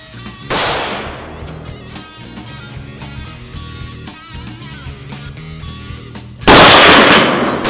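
Two sharp, loud gunshots from an Aero Precision M5E1 .308 AR rifle fitted with a POF drop-in trigger at an outdoor range, spaced about six seconds apart, each with a decaying echo.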